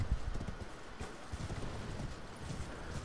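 Horse hooves clip-clopping at a gallop in the video game Elden Ring, a steady rhythmic pounding that runs through the whole stretch at moderate loudness with no talk over it.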